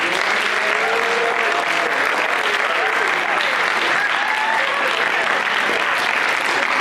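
Students in a school audience give their presenters a steady round of applause at a leadership summit, continuous dense clapping at even loudness with faint voices mixed in.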